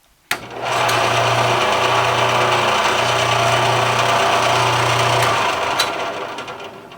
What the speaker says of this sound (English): Bandsaw's plugged in, blade is on, belt's on.